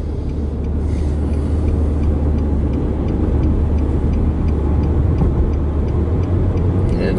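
Cabin sound of a 2013 Nissan Sentra with a slipping CVT transmission: a steady, loud road and engine drone with faint rhythmic ticking as the car accelerates.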